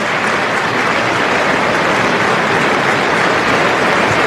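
Football crowd at an AFC Wimbledon versus Luton Town match rising to applaud in the stadium, a broad, continuous roar of distant clapping and crowd noise that holds steady and loud throughout.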